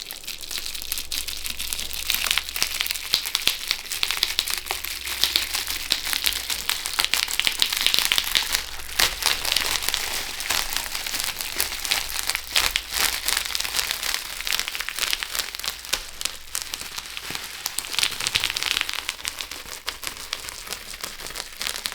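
Plastic or paper liner being peeled back from a block of honey butter tallow soap, a continuous crinkling, crackling rustle held close and fairly loud throughout.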